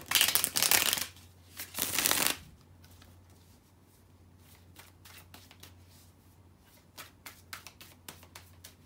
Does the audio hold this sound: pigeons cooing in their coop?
no